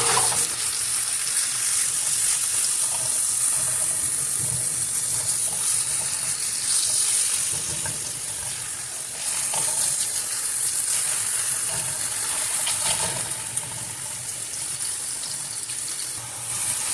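Chopped onion sizzles steadily in a pan of hot oil while it is mixed, a continuous close frying hiss with occasional soft stirring scrapes throughout.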